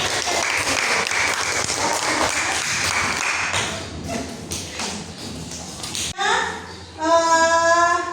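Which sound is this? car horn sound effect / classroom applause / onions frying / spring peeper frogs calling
classroom applause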